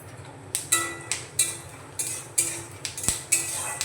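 A utensil stirs cumin seeds and peanuts in a pan, making a quick series of sharp metallic scrapes and clinks at an irregular rhythm, close and fairly clear, with no talk.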